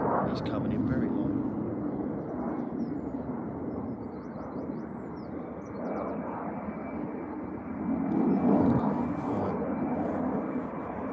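A fixed-wing airplane coming in very low on approach to land, a steady broad engine roar that swells louder toward the end, with a person talking over it.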